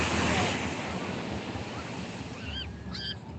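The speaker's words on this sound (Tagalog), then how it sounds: "Ayan, nasa tabi na po tayo ng dagat" Sea surf washes steadily against the shore, a loud continuous rush of breaking water with wind buffeting the microphone and a couple of brief faint calls near the end.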